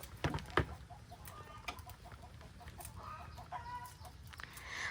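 Chickens cluck and chatter steadily at a rural farmyard. A few louder squawks come near the start, and the soft, repeated clucks carry on over faint background ambience.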